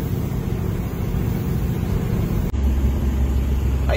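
Tractor-trailer truck engine running at low revs while descending a downhill grade, a steady close low rumbling drone with a brief dip partway through.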